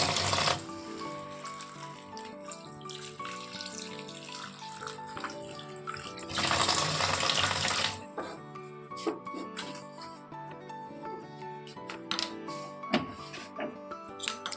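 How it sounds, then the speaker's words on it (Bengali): Vegetables are washed under running tap water in a kitchen, with a loud gush of water lasting about two seconds midway over a busy, tonal background with scattered clatters. "আর এদিকে সবজিগুলো ধুয়ে নিচ্ছি।"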